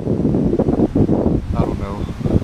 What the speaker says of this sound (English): it's so windy, so windy.